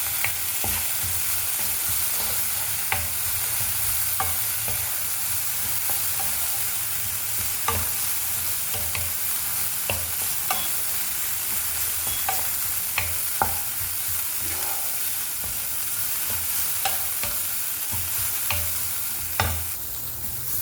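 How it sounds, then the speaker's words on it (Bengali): Food fries steadily in a hot pan for a breakfast dish, with a dense continuous sizzle and occasional soft clicks of stirring, no voices over it. "দেখো এটা মোটামুটি আমাদের ফ্রাই হয়ে গেছে।"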